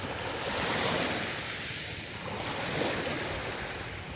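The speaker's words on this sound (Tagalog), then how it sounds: "ang ganda ng dagat" Sea waves wash onto the shore by a boat landing at Tinahikan, Infanta, Quezon Province, with a continuous roar of surf and wind buffeting the microphone.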